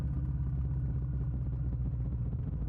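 A motorcycle engine runs steadily on an empty road at night, a low continuous rumble with a slight rhythmic throb, close and even in level throughout, with no voices.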